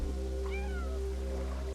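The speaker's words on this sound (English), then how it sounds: "You can use the meow button to complete certain tasks in the game" A cat character in the video game Stray meows once, a clear rising-then-falling call over a steady low electronic hum of the game's background audio.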